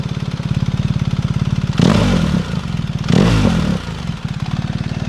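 A BMW R1300 GS boxer engine idles with a steady loping pulse through its aftermarket exhaust with the valve open, then revs twice in loud blips before settling back to idle.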